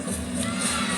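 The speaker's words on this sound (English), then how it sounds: "She's got a whole bunch of family here in the crowd cheering her on." A crowd at a women's college gymnastics meet, Alabama against Oklahoma, cheers and shouts in a loud, sustained roar that fills the arena.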